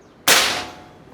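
One loud, abrupt PCP big game air rifle shot fired nearby, a sharp snap that fades quickly into brief ringing.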